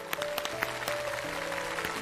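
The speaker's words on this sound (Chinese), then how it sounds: "我们用掌声祝福陈团长身体越来越好" Audience applause at a national seniors' choir competition in Beijing, clapping for the head of a choir; a steady, moderately loud patter of many hands with a few sharper claps standing out.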